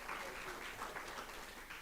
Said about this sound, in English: Let's please clap again for Boitumelo.